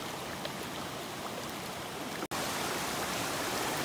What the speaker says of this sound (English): There's some gushing water coming in down here